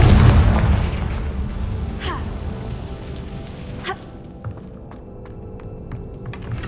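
A Confringo fire spell in Hogwarts Legacy lands with a loud, deep boom, then rumbles and crackles away while sharper pops and a few clicks follow in the tail.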